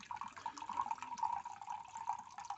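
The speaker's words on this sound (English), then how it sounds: "let's take the metal cup and we will fill it with a liquid" Liquid poured into a metal cup, a steady bright trickling and splashing stream that runs continuously, fairly close and moderately quiet, with no talk over it.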